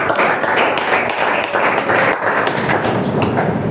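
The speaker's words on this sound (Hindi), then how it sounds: "एक बार जोरदार तालियां बजाएंगे" An audience at a government school event claps loudly and steadily, a dense, continuous wash of applause from a large group with no pauses.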